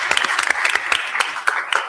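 Sparse, uneven hand claps from a small audience at a policy conference, individual sharp claps rather than a full ovation, close and brief.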